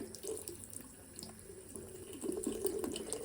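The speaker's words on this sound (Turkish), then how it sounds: "böyle musluktan su içmeyi seviyor" A cat laps water from a running kitchen tap, the steady faint stream splashing into the sink with small irregular lapping and drip sounds on top, no voices.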